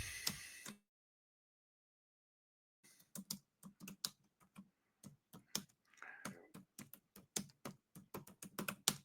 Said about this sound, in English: we're typing and talking here, so bear with me